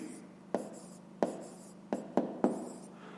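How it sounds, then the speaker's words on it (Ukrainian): A fraction being written by hand for a fifth-grade maths exercise, heard as five sharp pen taps and short strokes on paper at irregular intervals, close and quiet, with no speech. "Ну і записуємо дріб."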